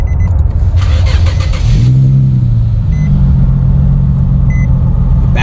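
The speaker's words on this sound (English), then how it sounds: "Now we're gonna turn the car back on." A 2008 Infiniti G35 engine cranks and catches, settling into a steady, close idle rumble that runs loud and continuous to the end.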